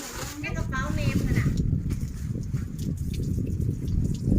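Water pours steadily out of a container being emptied while clearing things out of a tank, a continuous rushing splash running throughout beneath people talking.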